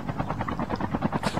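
A helicopter in the mobile game Call of Duty Mobile drones steadily with a rapid, even rotor chop throughout.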